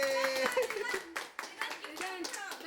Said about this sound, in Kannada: ವಿನ್ನರ್ ಸಿಕ್ಕರು. ಹೊಡಿರಿ ಒಂದು ಚಪ್ಪಾಳೆ.